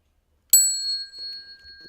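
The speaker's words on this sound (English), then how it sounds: "And we conclude our opening ceremonies with the bell song." A single bell is struck to close the opening ceremonies of a Buddhist sutra lecture, giving one sharp, bright strike followed by a long, clear, ringing tone that slowly fades with no talk over it.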